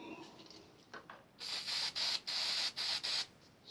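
Spray bottle misting an American Standard bathtub faucet part inside the wall in a series of short close hissing bursts, about five in quick succession.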